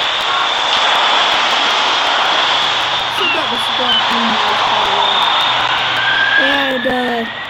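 In the SimCity video game, an aircraft comes in to land at a city airport with a loud, sustained engine roar and a thin rising whine. Faint voices sit under the engine near the end.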